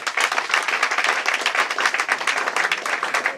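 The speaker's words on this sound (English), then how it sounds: "Give him a big applause." Audience applause at a formal ceremony welcoming the event chairman, loud and close, with a steady dense patter of many hands clapping throughout and no speech over it.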